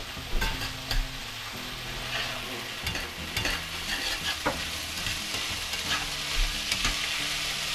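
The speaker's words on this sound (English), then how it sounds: "you can hear everything sizzling and frying" Peas sizzle steadily in a hot pan while leftovers are warmed for fried rice, with occasional scrapes and clinks of stirring; no voices.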